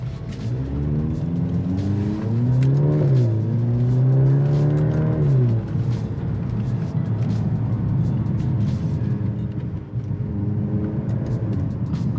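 A 2023 Maserati Grecale Modena engine revs in manual mode, heard from inside the cabin: loud, steady drone that climbs in pitch through a couple of rising sweeps, then settles back to a constant hum with no talking.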